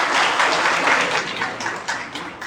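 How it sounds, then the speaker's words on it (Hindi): An awards-ceremony audience at the Indus Hotel in Hyderabad, Sindh, applauds steadily for a couple of seconds, a dense wash of many hands clapping at once that holds up without pause. "मेरे ख्याल से में तालियां भरपूर होनी चाहिए"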